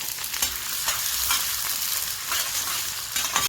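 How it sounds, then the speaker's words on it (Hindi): Sliced onion fries in hot oil with a dense, steady sizzle and spatter, crackling close up and fairly loud throughout, with faint stirring touches and no talking. "जैसे ही ऑयल गर्म हो जाएगा उसके अंदर प्याज डालेंगे।"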